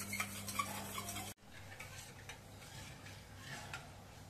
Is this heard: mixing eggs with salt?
yes